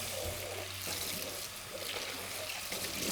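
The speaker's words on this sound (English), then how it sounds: "I'm just going to wash out the bowl that I used for the meat" Tap water runs steadily into a kitchen sink while a bowl used for meat is rinsed out, a continuous faint splashing hiss with some clinks and shifts.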